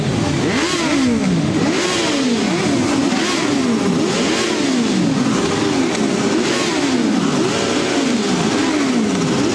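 Several four-cylinder motorcycle engines revving together at a motorcycle meetup, loud and continuous, with repeated rising and falling throttle blips overlapping for the whole stretch.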